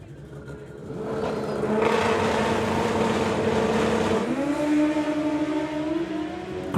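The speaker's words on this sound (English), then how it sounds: "Great looking launches for both 121 to 60 foot in both lanes." Drag racing motorcycles launching down the strip at a nationals event, a loud rising engine roar that swells from a near-quiet start and holds steady as the bikes accelerate away, with no talk.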